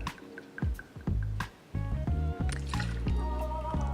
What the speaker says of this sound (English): I'm going to take vodka, and we'll do 2 ounces of vodka.